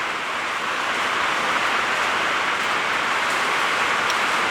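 Heavy rain pours down outside a workshop, a dense and even hiss that never lets up, heard from indoors with no talk.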